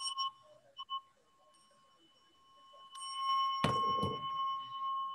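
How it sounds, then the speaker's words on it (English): A bell is rung once before a Buddhist-style group prayer, giving a bright metallic strike that rings on with a long, steady sustain, followed by a soft rustle and a few faint taps in the room. "ring the bell"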